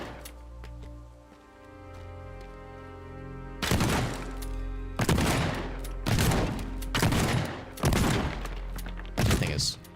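Shotgun blasts in the destruction game Teardown, five loud booming shots roughly a second apart, each followed by crashing, shattering debris, over a steady low background hum.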